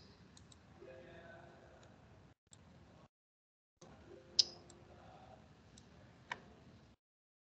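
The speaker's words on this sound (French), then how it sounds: "Je clique sur option." A few sparse, sharp computer mouse clicks in a quiet room, spaced seconds apart, under soft talk while a Revit drawing is being worked on.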